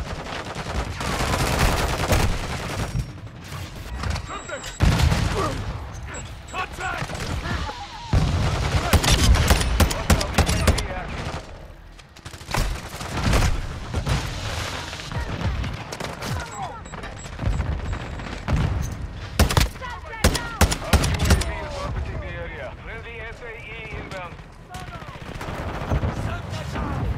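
TAQ-M rifle gunfire in a video game, with repeated loud bursts and single shots spread over nearly half a minute amid battle noise, with occasional shouted voices.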